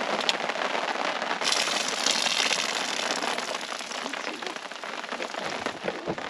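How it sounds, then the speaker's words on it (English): Steady rain falls in a dense, continuous hiss with scattered drops pattering on a surface, close by and fairly loud throughout. "No, it's raining."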